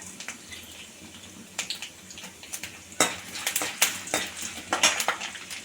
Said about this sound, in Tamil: ரொம்ப கருக வேணாம் லைட்டாக வறுத்தாலே போதும் கடலைப்பருப்பு